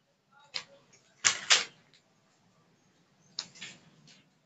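Scissors snipping the seam allowance of a fabric off-shoulder blouse, a few close, crisp cuts in short clusters separated by quiet pauses.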